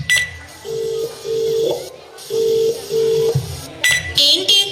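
A phone call is dialed but goes unanswered, heard as a sequence of sustained electronic tones repeating in pairs with brief gaps, loud and near, with short bursts of other noise between them.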